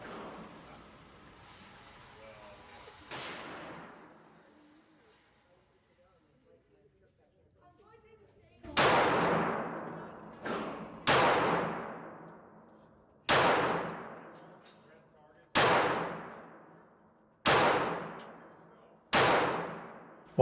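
Taurus Spectrum 380 semi-auto pistol fired at an outdoor range target 25 feet away: seven sharp, loud single shots with ringing decays, spaced about two seconds apart after a quieter stretch with a voice.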